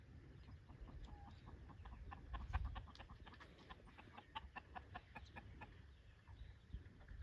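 Worked-up chickens cluck in short repeated bursts, faint and a little distant, over a low rumbling background with no talking.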